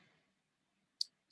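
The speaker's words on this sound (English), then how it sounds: "You save it by clicking the right click on your mouse" Two sharp, quiet clicks, about a third of a second apart, in near silence after a faint murmur fades out.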